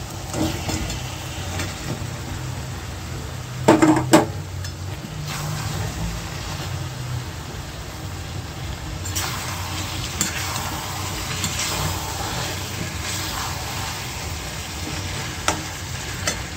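Spiced masala and chicken pieces sizzle and fry in a pan for a chicken curry while a spoon stirs steadily, with a louder clatter of utensil on pan near the start and occasional sharp scrapes later.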